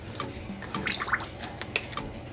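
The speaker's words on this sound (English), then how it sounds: "I'm gonna just pour this onto the chicken." Juice from a container pours over a whole roasted jerk chicken, giving faint, close splashes and drips with small irregular spatters and no talking.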